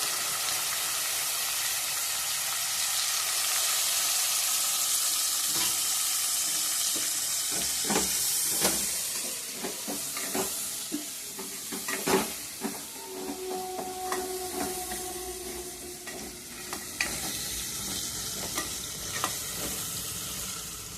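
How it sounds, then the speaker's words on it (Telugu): Washed dry mutton frying in masala for an Andhra-style dry curry, with a loud steady hiss and sizzle that gives way to scraping stirs and sharp clacks of a spoon against the pan. "మసాలాలో ఈ డ్రై మీట్ వేగితే బాగుంటుంది, మంచి వాసన వస్తుంది."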